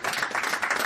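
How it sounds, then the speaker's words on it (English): Audience applause at a real estate agents' time management session, a dense steady wash of many hands clapping together, loud and continuous for under a second with no talk over it. "join me in applauding you for doing such a great job today"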